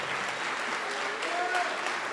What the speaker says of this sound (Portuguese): Vamos aplaudir ao nome de Jesus por cada vida que está chegando.